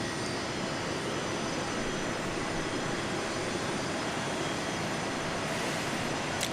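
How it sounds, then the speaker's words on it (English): An Embraer ERJ 135 LR jet arriving from Aspen, Colorado at Dallas Love Field gives a continuous broadband engine roar, steady and fairly strong throughout with no voices. "I think we've got an ERJ 135 LR arriving from Aspen"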